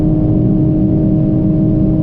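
A Toyota Supra accelerates at very high speed on a top-speed run, a loud, steady engine drone with rushing wind noise, continuous and close throughout.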